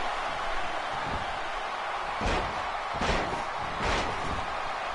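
Body slams onto the canvas in an independent pro wrestling ring, three heavy thuds about a second apart over constant loud crowd and arena noise.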